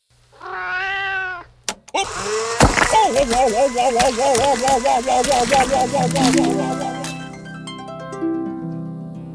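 A cat meows in a long drawn-out call, then gives a run of repeated yowling meows over a clatter and a sustained tonal background, close and fairly loud.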